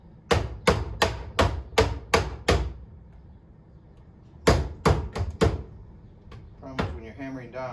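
Hammer blows on a soldered copper end cap during roof work on an 1884 house, a close, sharp run of about seven evenly spaced strikes, a pause, then four more, with faint talk toward the end.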